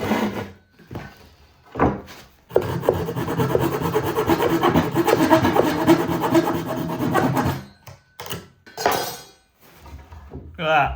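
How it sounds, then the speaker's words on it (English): A hand saw cuts small notches in an oak windowsill with a long, steady stretch of rasping strokes, framed by short separate scrapes before and after, all loud and close. "this is how I'm cutting out the little sill notches"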